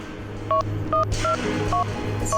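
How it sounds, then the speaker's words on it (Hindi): Telephone keypad tones beep one after another, five short dial tones at an even pace over a low background hum. "तू ऐसा कर, उस नंबर पे डायल कर।"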